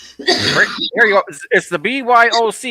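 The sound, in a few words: cough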